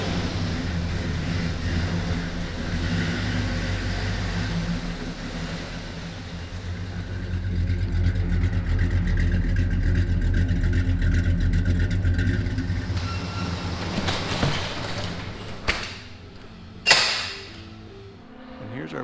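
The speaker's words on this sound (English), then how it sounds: "We're going to back the car out and finish off this video." An old Mopar car's engine idles with a steady low rumble as it is backed out of a shop, with a few revs, clunks and thumps near the end.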